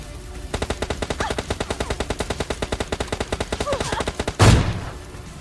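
M4 rifle fire in PUBG Lite sounds as a long, rapid automatic burst of evenly spaced shots, loud and close, ending in a sharper blast that fades out.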